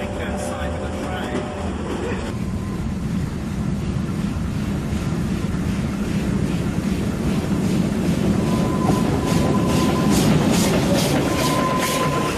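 Apple Express narrow gauge train coaches rolling through South Africa, a steady rumbling clatter with rhythmic wheel clicks and squeals, heard close from on board, with someone talking over the noise.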